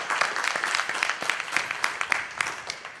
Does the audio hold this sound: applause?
yes